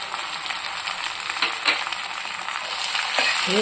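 Garlic pickle with mango pulp stirred in a hot pan, giving a steady, fairly loud sizzle and frying hiss with soft scraping strokes from the stirring, and no voices.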